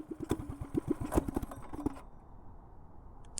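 A small engine running rough and shaking badly sputters and chugs unevenly for about two seconds with irregular pops, then cuts out, leaving a quiet background.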